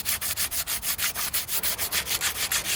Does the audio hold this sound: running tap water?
no